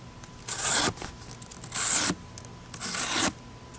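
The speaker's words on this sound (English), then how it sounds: "let's just see how it would use if you had to cut up some boxes" Credit card folding knife slicing up cardboard boxes: three separate rasping, tearing strokes about a second apart, close and crisp, each followed by a short quiet gap.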